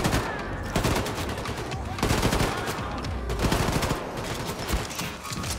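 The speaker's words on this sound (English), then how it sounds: "I'm dual wielding a submachine gun and a rifle at the same time." Dual-wielded submachine gun and rifle fire from Wolfenstein II: The New Colossus, with dense rapid bursts of gunshots in close repeated volleys that pause briefly and then resume.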